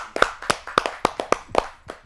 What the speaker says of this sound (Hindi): आइए जोरदार तालियों से स्वागत करते हैं डॉक्टर नीरज कुमार चतुर्वेदी जी का